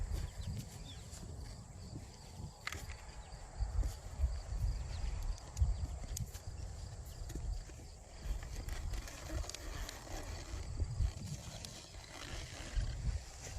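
Soft irregular hoof thuds on the ground as a horse walks nearby, with faint rustling and low background noise.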